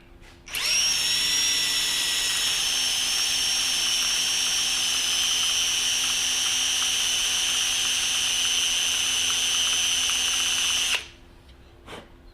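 A machine tool cuts metal chips from a Yamaha XS650 clutch part, a loud steady high whine that starts abruptly, holds for about ten seconds, then stops.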